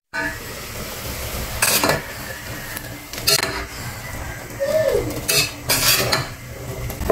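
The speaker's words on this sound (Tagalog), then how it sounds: "Takpan muna natin at pakuluin." Metal lid set onto a cooking pot of Filipino spicy beef paklay stew, several clanks and rattles of metal against metal over a low simmering background, with a brief voice partway through.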